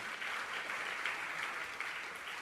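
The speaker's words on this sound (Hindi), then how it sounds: "जरा जोरदार तालियां इनके इस प्रसंग पर बजनी चाहिए" An audience at a Jain religious discourse claps in a steady, even wash of applause, heard from a distance and fairly faint, with no talking over it.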